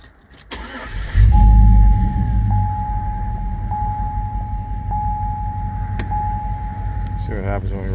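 A 2005 Chevrolet Tahoe 5.3L 4x4 with stalling and crank-no-start trouble starts up, then runs at a steady close idle with a sustained electronic tone and occasional clicks, while people talk nearby.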